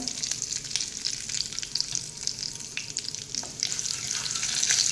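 Curry leaves and red chili powder hit hot oil for a tempering and give off a continuous close sizzle with sputtering crackles, steady and fairly loud throughout, no voices.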